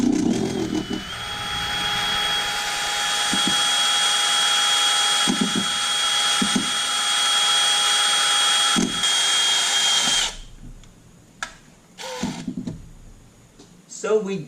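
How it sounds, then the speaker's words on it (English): A power drill bores slowly through a Miata oil pan with a steady whine, broken by short knocks, then cuts out before a few brief handling clatters. "So we just busted through"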